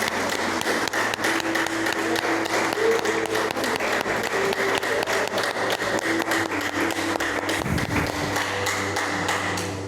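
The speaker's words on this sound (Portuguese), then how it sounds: "Pode aplaudir o Senhor." A church congregation applauds during worship, a sustained dense clapping that runs steadily for about ten seconds, with faint murmurs and a low hum underneath.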